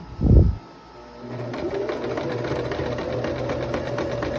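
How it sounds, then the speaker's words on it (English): Sewing machine stitching around a rounded dress pocket, a steady mechanical whir with rapid needle ticking that starts after a brief thump and runs on continuously, close and moderately loud. "And now you're gonna sew around the pocket."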